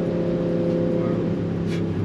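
A Rivian R1T electric pickup truck, a heavy vehicle of over 7,000 pounds, accelerating hard, heard from inside as a steady loud drone of motor and road noise with a strong low hum throughout.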